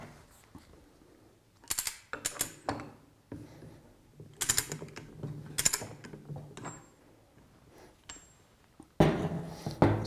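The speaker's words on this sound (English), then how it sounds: "The first item we're going to start with is undoing the one nut." Undoing the single nut on an air-operated double diaphragm pump: a wrench ratchets in short bursts of metallic clicks, with scrapes, faint clinks and a squeak between them, near and fairly quiet, ending in heavier handling noise.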